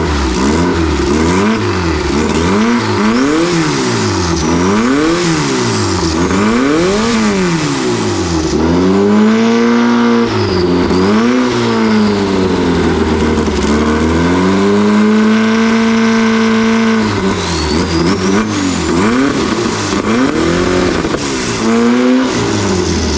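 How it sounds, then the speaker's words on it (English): An old truck engine running on avgas, revving up and down repeatedly with rising and falling pitch, loud and close, then settling into a steadier hold before revving again. "The motor sounds really good."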